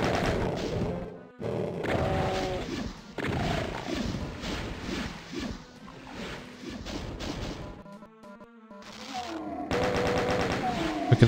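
Repeated gunfire from bullets and shotgun shells in The Ultimate Doom, a loud, dense run of rapid shots and blasts with crashing impacts, briefly pausing around the eighth second before a fresh burst resumes.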